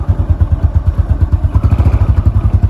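A four-stroke motorcycle engine runs at idle, a loud close low putter with even rapid pulses and a light mechanical clatter over it, steady throughout.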